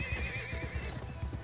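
A horse gallops in the western video game Gun, with quick rhythmic hoofbeats under a loud, clear neigh.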